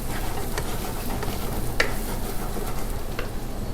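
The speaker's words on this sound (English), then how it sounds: "Now increase the flame low to medium. Saute the masala just for 40 seconds." Masala sautés in a pan over a low-to-medium flame, a soft continuous sizzle with a few brief sharper scrapes of stirring, close and quiet with no voice.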